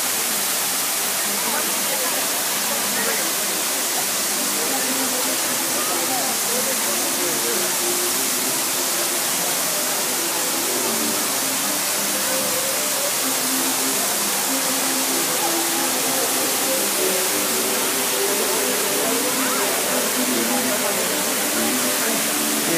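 A large 60-metre water fountain in Lima, Peru gives off a continuous, dense rushing roar of falling spray. The sound stays loud and unbroken throughout.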